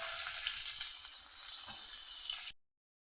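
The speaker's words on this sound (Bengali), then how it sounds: "পেঁয়াজটা ভাজা হয়ে গেছে" Chopped onion and crushed garlic fry in oil in a wok, giving a steady, close, bright sizzle with faint stirring that runs for a few seconds before cutting off abruptly.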